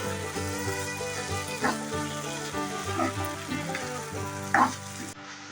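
Egg bhurji sizzles steadily in a pan with chilli powder and masala, a continuous frying hiss broken by a few louder spatters and stirring scrapes, close and unbroken throughout.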